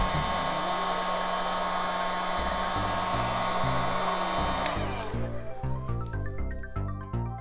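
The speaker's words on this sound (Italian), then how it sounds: "Ora con la pistola aria calda" A hot air gun blows a steady, loud whooshing stream while heat-shrinking over soldered wires on a fume extractor build, then cuts off partway and leaves a fading hum with intermittent low thumps.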